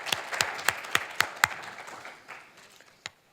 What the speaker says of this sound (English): we have to give a round of applause